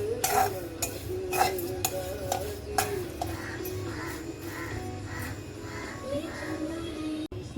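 Bajra millet roasting in a pan, with repeated sharp scraping and tapping strokes of a spatula against the metal at a steady rhythm, close and fairly quiet.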